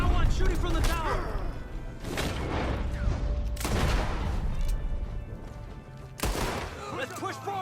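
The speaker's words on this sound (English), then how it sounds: "We got one shooting from the tower!" Gunfire in Red Dead Redemption 2, with sharp shots cracking out in scattered bursts during a gunfight at a tower, some near and some farther off, while characters shout over the shooting.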